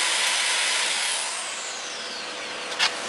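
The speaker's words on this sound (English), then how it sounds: "make sure your drill doesn't wander up because you're going to damage the thread" A drill boring small holes into a replacement tailstock quill part for a Vicmarc woodturning lathe, a steady loud whirring hiss throughout that eases slightly, close by, with a brief sharper burst near the end.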